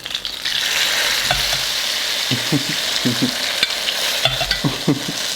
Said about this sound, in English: turn on the broiler for 2 to 3 minutes until slightly charred in some spots. Now we wait. You hear them sizzling.